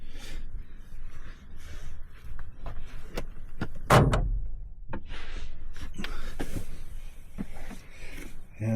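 Van doors are locked from inside, with a sharp, loud mechanical clunk standing out midway among quieter shuffling, clicks and movement in a small enclosed space.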